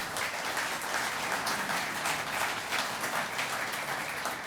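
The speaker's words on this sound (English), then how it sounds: "Come on, let's have a round of applause." Sustained audience applause fills a hall at the 2022 IMSA State of the Sport championship gathering, a steady dense wash of clapping from many hands with no voices over it.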